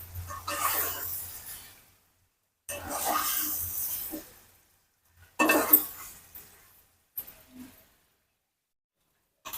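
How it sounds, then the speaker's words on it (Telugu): A spatula scrapes and clinks against a pan while garlic chicken fry is stirred and turned from bottom to top, in short bursts of metallic scraping separated by pauses. "ఇలా కింద నుంచి పైకి ఇలా తిప్పుతూ ఫ్రై చేసుకోవాలి"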